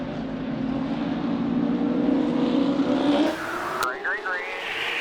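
Race car engines roar together at a green-flag restart, a loud sustained engine drone that shifts pitch mid-way as the cars accelerate, with brief rising whine sweeps near the end and a radio voice talking over it.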